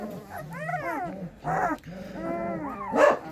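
Estonian Hound puppies whimper and whine in high, wavering cries, breaking into a few sharp yips and barks, close and fairly loud.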